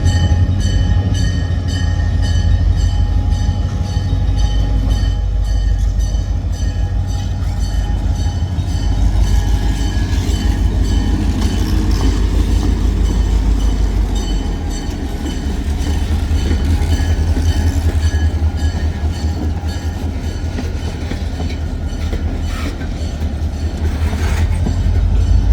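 Freight train rolling past close by, with a continuous heavy low rumble and rhythmic clatter of wheels over rail joints, sustained and loud throughout.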